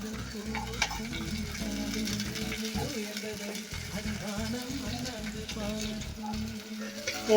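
Chopped green chillies and dried red chillies fry in hot oil while being stirred, producing a close, continuous sizzle with scraping stirs and faint talk in the background.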